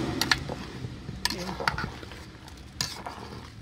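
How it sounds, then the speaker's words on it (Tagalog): A utensil stirs sopas in a cooking pot, giving a few scattered scraping and clinking knocks over a soft sizzle, close and fairly quiet. "Halo-haloin natin."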